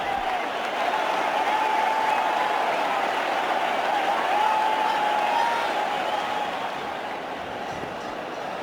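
A large Test cricket crowd in Kolkata roars and applauds at the fall of a wicket, a sustained wash of cheering and clapping heard from the broadcast position with no talk over it.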